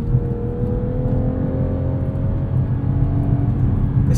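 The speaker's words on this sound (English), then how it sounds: "That second and third gear pull, that's what this car is all about." A 2021 Toyota Supra 3.0 Premium pulling hard through second and third gear up an entrance ramp, heard from the cabin as a loud, sustained engine drone that climbs gradually in pitch.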